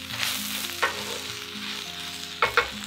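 Pulled pork sizzles steadily in a frying pan, a continuous crackling fry with a few louder spits and stir clatters partway through and near the end, with no talking.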